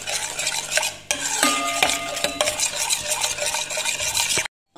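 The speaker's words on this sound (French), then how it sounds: "Et mélanger." Whole milk is stirred into a biscuit mixture in a pan, with a utensil scraping and clinking steadily against the sides, close and busy, ending abruptly.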